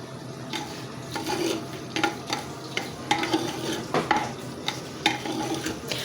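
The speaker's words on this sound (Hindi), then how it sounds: "इसमें हमने प्याज को सिर्फ सौते करना है, लाइट गोल्डन करना है।" Steady sizzling of onions sautéing in a pan, with repeated stirring scrapes and soft clinks at irregular intervals, no voices.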